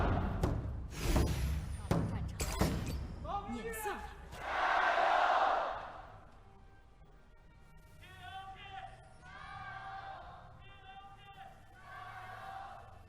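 A large esports arena crowd in Xi'an roars loudly during a League of Legends pro match, swelling to a peak and then fading while a caster talks over it.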